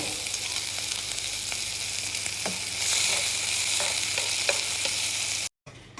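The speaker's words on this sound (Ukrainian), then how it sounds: "Домашня ковбасочка ся поджарює." Homemade sausage fries in a pan with onion, a continuous close sizzle with stirring scrapes that briefly swell louder, then a short cut to silence near the end.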